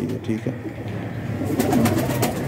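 A teddy pigeon coos softly in an evening pigeon loft while someone says a few words over it, with some faint rustling nearby.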